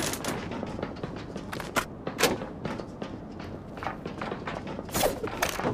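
Rapid gunfire trades back and forth in a ranked match of the mobile shooter Hyper Front, with sharp bursts and scattered single shots over a busy, mid-level game soundscape.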